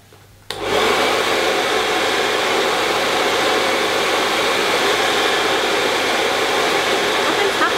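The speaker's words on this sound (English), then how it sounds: "all I'm gonna do is put the hair dryer in and then turn it on" A hair dryer fitted with a homemade plastic-bottle curler attachment switches on after a brief quiet moment, then blows as a loud, steady broadband whoosh that holds without a break to the end.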